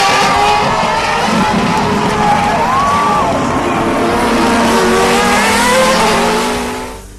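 Race cars at full speed at Bushy Park circuit in Barbados roar close by in the evening dark, engines revving and shifting pitch as they pass, with a faint tire squeal amid the loud continuous drone.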